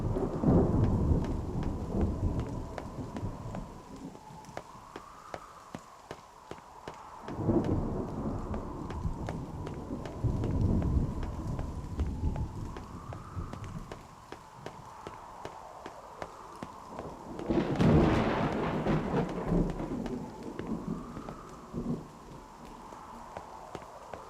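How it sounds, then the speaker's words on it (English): Thunderstorm in the video game NieR Re[in]carnation: rolling rumbles of thunder over steady rain, swelling and fading in waves, with a louder crackling peak near the end. "We got thunder coming."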